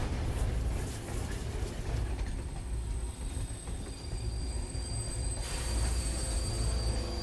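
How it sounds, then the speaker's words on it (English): A big train passes in the video game Beyond Two Souls, a sustained heavy rumble of wheels on rails with a high metallic squeal rising partway through and continuing to the end, loud and without speech. "That is a big train."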